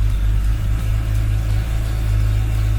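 A BMW E90 engine, running rich, idles steadily with a loud continuous low rumble after starting, no talking over it.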